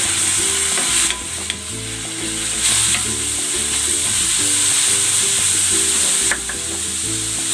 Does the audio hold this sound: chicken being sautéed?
yes